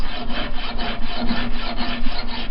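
A metal file rasps steadily back and forth along the edge of a fillet knife made from a saw blade, breaking sharp edges and shaping the bevel, in loud close rhythmic strokes about four per second.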